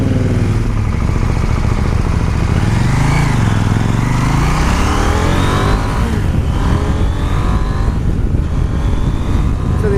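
A KTM 890 Duke R motorcycle engine revs loudly and continuously on a first ride, its pitch climbing and falling through gear changes over heavy wind rush.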